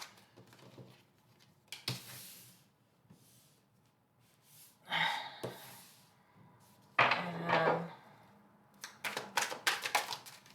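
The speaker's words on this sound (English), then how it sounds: "So let me just pull out all these cards" Tarot cards pulled out and handled, a series of soft shuffling, sliding and flicking card sounds in short bursts with pauses between, ending in a quick run of crisp snaps, close and fairly quiet.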